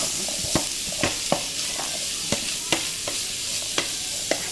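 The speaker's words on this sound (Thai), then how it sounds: "อันนี้ใส่หอมลงไปแล้วนะก็จะเป็น หอมแขกแล้วก็หอมใหญ่นะคะ ก็การผัดต่อไปเอาแห้งๆ" Sliced shallots and onions are stir-fried dry in a pan for homemade lasagna, with about nine sharp spatula scrapes and knocks landing at an irregular pace over a steady background sizzle.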